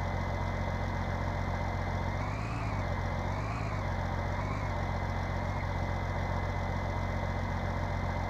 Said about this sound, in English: Nice medium tractor.